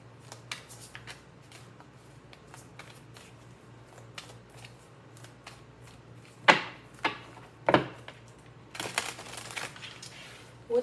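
Tarot cards are shuffled by hand, giving soft repeated riffles and taps with a few louder sharp snaps near the end, close and quiet with no talking.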